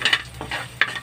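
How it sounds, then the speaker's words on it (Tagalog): Onions and garlic being sautéed in a pan that was just used for sisig, with a soft sizzle and a few brief stirring scrapes over about a second. "Ari ko man diigisang ako nga mga sibuyas kag ahos."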